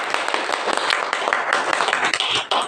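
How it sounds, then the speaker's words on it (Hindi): A gathered audience at a spiritual discourse claps for themselves, a burst of brisk, uneven handclaps filling the room for a few seconds, fairly close and loud with no speech over it. "ताली बजाइए अपने लिए"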